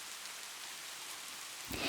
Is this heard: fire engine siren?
no